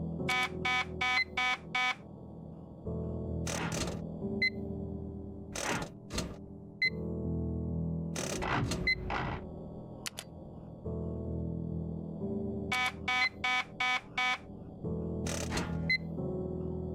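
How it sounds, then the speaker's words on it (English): An electronic alarm sounds in the horror game Silent Hill: Shattered Memories, with rapid buzzing bursts in clusters, separated by sustained tones and sharp beeps, loud and insistent, with no voices. "the alarm's playing"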